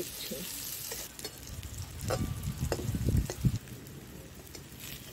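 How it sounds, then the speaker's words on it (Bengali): Pumpkin pieces fry in hot oil in a pan, a loud continuous sizzle with stirring scrapes and crackle swelling in the middle before settling back to a steady hiss. "তেলের মধ্যে দিয়ে দিচ্ছি, আরে কুমড়োটা ভেজে নিচ্ছি"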